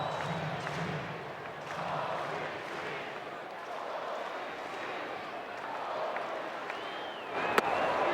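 A baseball stadium crowd reacts to a slow curveball with a swelling murmur of oohs and aahs, distant and diffuse, with an announcer talking over it.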